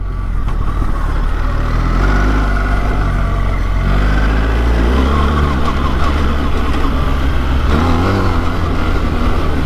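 BMW R 1300 GS Trophy motorcycle engine spinning up, a loud, close, continuous mechanical drone that swells and eases with shifting revs, alone without talk.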